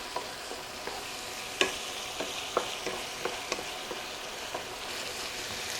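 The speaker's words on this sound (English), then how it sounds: "We're going to stir this and cook it for an additional 1 minute" Meat, peppers, onions and garlic sizzle steadily in a pan for a cowboy tater tot casserole, with a spoon scraping and clacking against the pan every second or so. The clatter is close and sits over a constant frying hiss.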